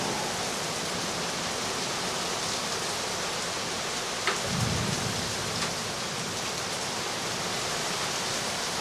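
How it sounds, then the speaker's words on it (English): Heavy rain pours steadily during a Houston spring wind storm, a dense continuous hiss on surfaces with a brief low rumble partway through, and no voices. "A lot of rain."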